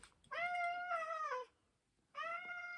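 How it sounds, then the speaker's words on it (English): A cat meows twice, long drawn-out cries close by with a short pause between them. "Sorry, that's just my cat."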